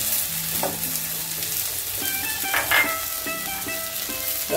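A spoon stirs turmeric powder into curry masala frying in a pan for a drumstick (moringa) curry, with steady sizzling and scraping, clinking strokes up close.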